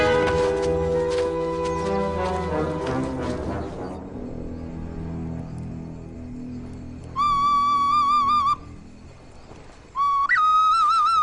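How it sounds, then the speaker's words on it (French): A leaf whistle sounds in two shrill, wavering bursts with short gaps, after a stretch of low tonal droning that fades out. "un sifflet de feuilles"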